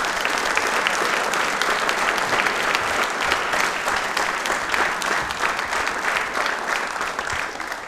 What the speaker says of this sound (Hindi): तालियां एक बार प्लीज जोरदार हो जाए